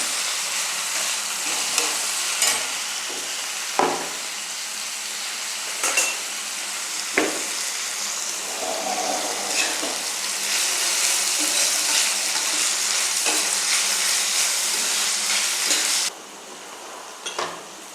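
Capsicum, chopped green chili and ginger stir-fry in a hot pan for homemade chowmein: a steady loud sizzle with occasional utensil clinks and scrapes, swelling louder before dropping away near the end, with no talking.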